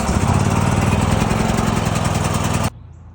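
A portable generator engine, started with the fuel on and the choke set, runs with a loud, steady mechanical roar close by, then cuts off abruptly near the end.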